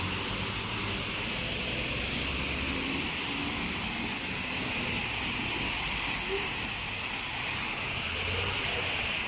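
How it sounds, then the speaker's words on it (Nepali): Rain falling in Abu Dhabi in cold, windy weather, a steady dense wash of water noise throughout, fairly close and unbroken, without speech. "पानी परेर बिजोग भएको छ"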